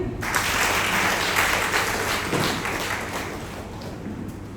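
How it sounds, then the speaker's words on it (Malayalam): An audience at a diocesan general body meeting claps in steady, dense applause that holds strong for a few seconds, then gradually thins and fades. "കൈയടിക്കൂ."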